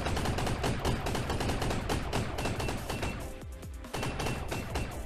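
Rapid bursts of pistol gunfire from dual pistols in the VR shooter Gun Raiders, dense and continuous shots with game effects, loud and close, no talking.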